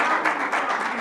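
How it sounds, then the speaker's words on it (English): Brief burst of audience applause at a Rochester school board business meeting, a short swell of clapping from a room of people. "You can applaud to that."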